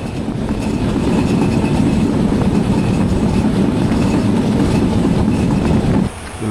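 Shimanto Express passenger train running on rails toward Khulna, a loud, steady rumble of wheels and carriages with faint clickety-clack, holding constant before a brief dip near the end.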